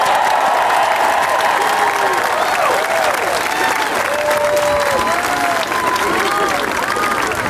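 Dense applause and cheering from a large crowd at a women's basketball national championship celebration, sustained and loud throughout with scattered shouts on top.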